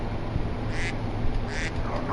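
A duck in a hunting video game gives two short, raspy quacks about a second apart, moderately close, over a steady low background hum.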